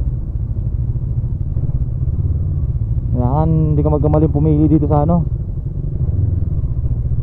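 Honda CB500X motorcycle riding over a rough, potholed road, a steady low engine and road rumble throughout with a rider talking over it in the middle.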